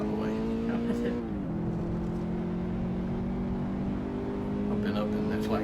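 Toyota race car lapping Mid Ohio in a racing simulator, a steady whining engine tone that drops in pitch after a gear change and then holds, with people talking quietly over it.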